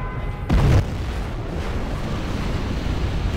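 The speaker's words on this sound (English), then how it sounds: "We have launched our nuclear missile. Our Scud Storm has been launched." A heavy boom from a nuclear missile and Scud Storm strike in Command & Conquer Generals Zero Hour, a short loud thud followed by a long rumbling roar of debris and wind-like noise.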